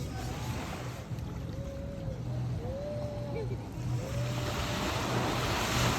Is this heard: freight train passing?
no